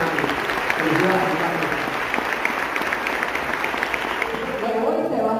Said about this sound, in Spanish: un aplauso al Sistema Nacional de Orquesta